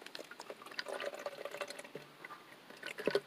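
Water trickles and drips unevenly while filling through a Sawyer Mini water filter, a soft, faint stream with small splashes.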